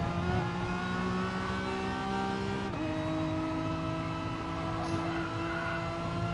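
A race car engine in a GT-class sim racing event revs steadily as it climbs a hill, a loud, continuous onboard whine with a brief pitch drop at a gear shift before pulling up again.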